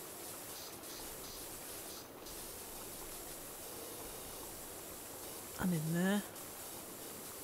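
A pressure washer in PowerWash Simulator hisses with a steady, broad spray throughout, while someone briefly speaks over it near the end.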